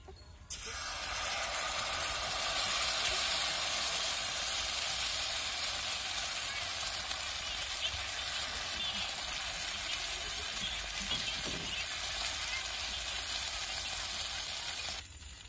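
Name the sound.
bhagar batter dhirde frying on a hot griddle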